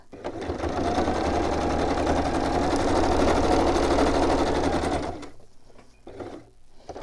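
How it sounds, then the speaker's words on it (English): A sewing machine runs in one steady, continuous burst while stitching down the center of a fabric pocket, loud and close, then stops abruptly near the end, leaving quiet room noise. "I'm going to stitch it down the center as well so my pocket doesn't flap up."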